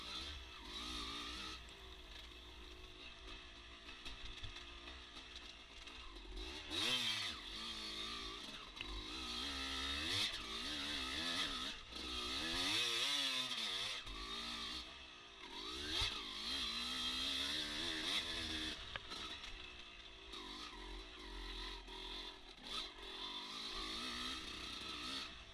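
Dirt bike engine on a motocross GP course at Fox Valley, a continuous loud drone that rises and falls steadily as the rider works the throttle through corners and straights for the whole stretch, with no talk.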